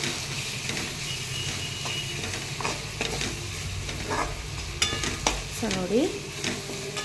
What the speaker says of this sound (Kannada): ಟೊಮೆಟೊನ ಚೆನ್ನಾಗಿ ಸ್ಮ್ಯಾಶ್ ಆಗೋವರೆಗೂ ಫ್ರೈ ಮಾಡ್ಕೋಬೇಕು